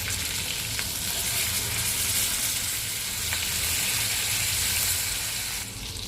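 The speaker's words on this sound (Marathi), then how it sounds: "तर या तेलामध्ये मी चिकनचे पीस सोडते." Chicken pieces fry in hot oil, giving a steady, dense sizzle that stays close and fairly loud throughout, with a few faint clinks, and no talking.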